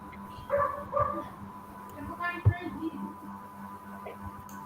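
Pet dogs give faint, brief yips and short barks in two small bursts over steady background noise.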